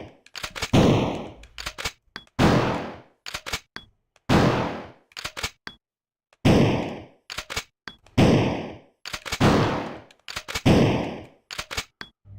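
Gunfire in a SEGA Dreamcast shooting game comes in loud bursts of rapid shots, roughly one burst per second or two, separated by short silences.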